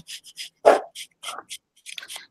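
Foxy the dog gives a string of short barks: one loud, close yelp sits among several quieter, clipped barks and scuffs at an irregular pace.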